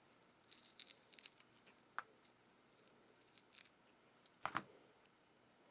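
Scissors snip close at a flower stem being cut for pressing in a garden: a few sharp, quiet clicks scattered across a hushed background, with one brighter double snip near the end.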